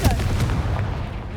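A heavy, booming blast of the Confringo spell in Hogwarts Legacy, a dense, loud explosive roar that fills the moment and slowly decays.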